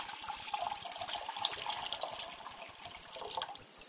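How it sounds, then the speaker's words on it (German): Tap water runs steadily into a cooking pot being filled for instant noodles, a continuous close splashing rush with no pauses. "Wasser rein."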